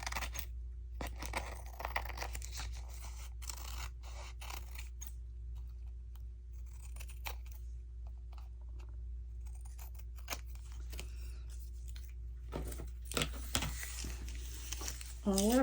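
Scissors trim glossy paper pages cut from a large garden book, giving a run of short snips and crisp paper rustles under a steady low hum, fairly close, with handling noise between cuts.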